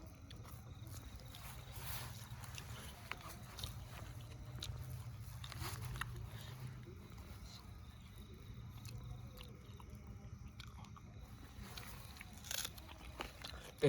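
Soft, close crunching and chewing as freshly cooked hot rice is eaten at night, quiet mouth sounds repeating irregularly with faint background noise and no talk.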